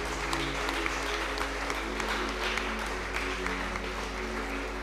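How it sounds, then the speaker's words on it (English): Clapping from a church congregation at a PCEA youth service rises as one steady, dense wash of many hands, continuous and fairly loud over a low hum, with no clear voices above it. "Let's give a mighty clap to God"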